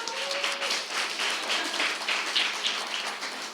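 A church congregation gives a short round of applause, a moderately loud patter of many hands clapping together that rises and falls slightly and carries on alone without speech.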